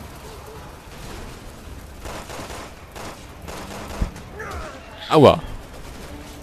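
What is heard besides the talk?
sniper gunfire in the video game Resident Evil 6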